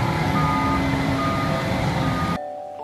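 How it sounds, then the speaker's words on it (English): Forklift truck backing up, its reversing alarm beeping steadily over a low engine rumble, close and fairly loud, then cutting off abruptly near the end. "Forklift truck."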